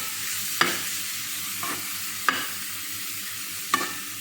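A spoon stirs tuna sambosa filling in sauce in a pan, with three sharp scrapes against the metal at intervals over a soft, steady sizzle, close and clear.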